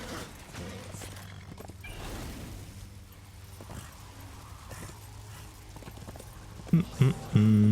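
Horse hooves clip-clopping steadily while riding in the video game Darksiders, a continuous rhythmic trot with a few louder thumps near the end; game ambience runs underneath.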